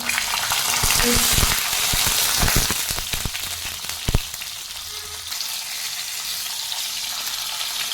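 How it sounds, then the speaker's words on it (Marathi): Eggplant sautés in a pan after a mustard seed and asafoetida tempering, a close crackling sizzle with a burst of clattering spatula stirs early on, settling into a steady, softer frying hiss. "दोन ते तीन मिनटं आपण परतून घेणार आहोत"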